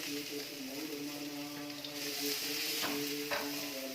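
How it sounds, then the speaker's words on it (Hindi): Fried beetroot tipped into a pan of roasted masala and stirred, a soft sizzle under scraping spoon strokes, close but fairly quiet, with a faint steady hum beneath. "अब इसमें ये फ्राई किए हुए बीटरूट डालेंगे।"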